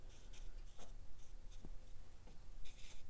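A watercolor brush, pressed down on its chisel end, rubs and scratches softly across paper in short, close strokes, quiet and dry-sounding with no talking.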